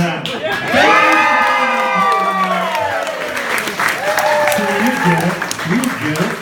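A small comedy club audience in Fayetteville applauds and cheers, loud clapping mixed with whoops and shouted voices rising and fading in waves, with people calling out over the clapping.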